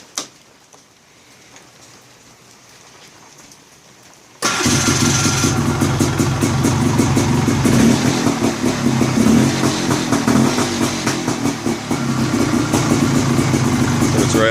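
A 1991 Polaris 350 L 4x4 ATV, freshly fitted with a new carburetor and throttle cable, sits quiet before its engine suddenly fires and settles into a loud, close, steady idle with a slightly uneven mechanical chatter.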